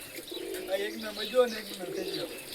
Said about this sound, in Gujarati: 2 કબૂતર છે